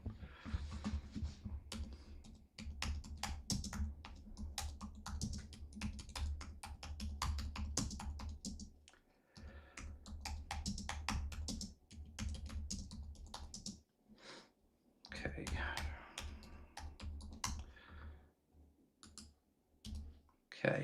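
Computer keyboard typing, rapid close clicks in long runs with short pauses, while a text poll is written; some faint speech mixes in.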